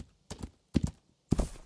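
Horse hooves in the video game Rising World, three distinct clip-clop bursts, each a quick double thud, spaced by short silences and heard up close.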